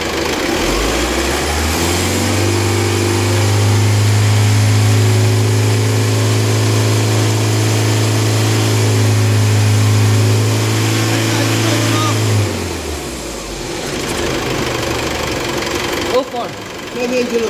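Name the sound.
common rail diesel engine held at 3,000 RPM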